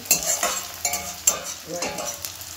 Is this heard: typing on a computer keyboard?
no